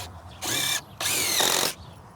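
A power driver sinks screws into wooden shed framing in two whirring bursts, the second longer than the first, each with a brief pause between, close and fairly loud with no talking.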